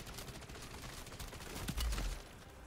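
Rapid automatic-rifle fire in MW3 Zombies, a dense rattling burst of shots that swells toward the end, faint and compressed, with no talking.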